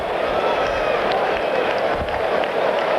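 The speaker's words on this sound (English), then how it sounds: "The cheering you just might have heard in the background" Distant crowd cheering at a Phillies–Reds baseball game in Philadelphia, a steady roar of noise with scattered shouts and claps under the broadcast.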